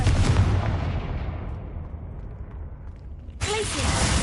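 A Confringo fire-blast spell cast in Hogwarts Legacy on PS5: a loud burst that fades over about three seconds, then a second sharp blast.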